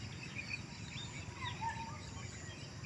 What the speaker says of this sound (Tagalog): maririnig mo talaga yung mga huni ng mga ibon dito